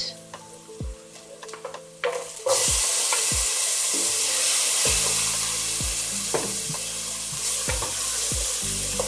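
Peppers dropped into a pan with caramelized onion, a few clattering knocks then a loud, sustained frying sizzle that carries on steadily with occasional spoon taps.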